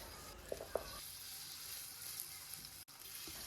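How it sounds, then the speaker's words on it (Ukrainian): A soft, steady sizzle of minced chicken and broccoli cutlets frying in oil, with a couple of faint clinks near the start. "Я смажу котлетки з обох сторін до золотистого кольору."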